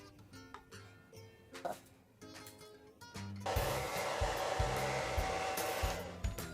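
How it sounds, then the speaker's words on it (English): A handheld hair dryer blows steadily from about the middle onward, a loud broadband whoosh after quieter handling and faint voice sounds in the first half. "when you're blow drying your hair, you kind of want to use some kind of heat protection"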